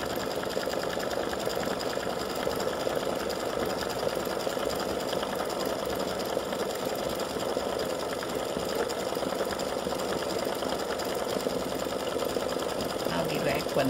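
Embroidery machine stitching a bow design, a steady fast mechanical chatter of the needle running continuously at close range.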